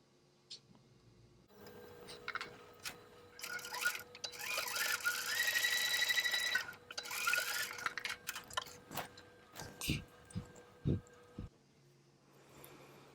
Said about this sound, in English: I'm going to sew these down